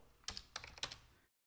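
Keys on a computer keyboard are pressed while a command is typed into a terminal, giving a few sharp, close clicks in a quick uneven cluster, followed by silence.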